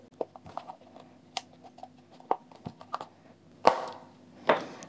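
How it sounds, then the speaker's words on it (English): Scattered small plastic clicks and snaps as the clips of an Ultimate Ears Roll Bluetooth speaker unlock during disassembly, close and fairly quiet, with a few sharper louder clicks near the end. "you can listen the clicking sound which is unlocking"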